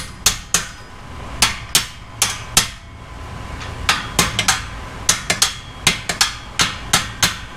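A hammer strikes a metal exhaust pipe during engine removal on an Audi S4 B8.5. About twenty sharp, ringing blows come close and loud, in irregular clusters separated by brief pauses.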